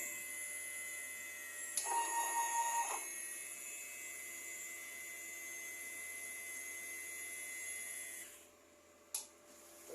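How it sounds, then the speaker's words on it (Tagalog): A DTF printer at a print shop hums steadily with high-pitched motor whine and tonal machine whirr, a brief mechanical shift partway through and a quieter pause near the end. "Ito po ang aming printer."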